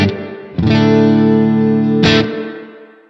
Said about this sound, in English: also have a reverb